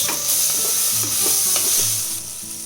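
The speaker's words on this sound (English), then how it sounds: "Now is the time to add in 2 nicely chopped tomatoes" Two chopped tomatoes fry with onion and garlic in a pan for vegetable kurma, a loud, close, continuous sizzle with a few soft stirring knocks and nobody talking.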